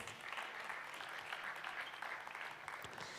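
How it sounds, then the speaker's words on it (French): Applause from a conference audience at a festival talk, steady and dense clapping filling the room, moderately distant and even throughout, with no voices over it. "On veut applaudir Anne Labbé."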